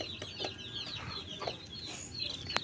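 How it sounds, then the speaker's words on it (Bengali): A laying hen clucks in short, scattered calls over a quiet farmyard background, fairly close but soft, with one sharper squawk near the end. "এটা হচ্ছে আমার মুরগি।"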